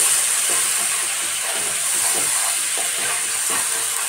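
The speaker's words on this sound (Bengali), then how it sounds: "আদাটাকে আমি তেলে দিয়ে দিলাম, তেলে দিয়ে হালকা করে নেড়ে দেব।" Ginger sizzles in hot oil for Kashmiri aloo dum, a continuous, even, fairly loud hiss with faint bubbling crackle underneath and no talking.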